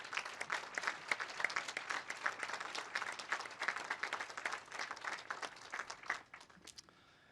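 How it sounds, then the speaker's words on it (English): A round of applause from the audience at an outdoor veterans memorial rededication ceremony, dense clapping holding steady for about six seconds before thinning out and stopping. "Please give them another round of applause."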